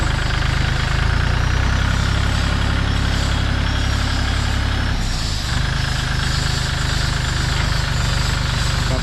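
A Kubota L32SP tractor's diesel engine rumbles steadily and loudly at idle close by, unrevved, a constant low throb with a brief dip midway, no voices.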